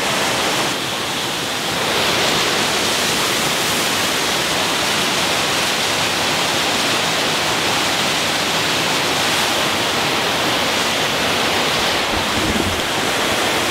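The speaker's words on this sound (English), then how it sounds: "Waterfall." A Colorado waterfall gives off a continuous, loud, broadband roar of rushing water that stays steady throughout, with no voices over it.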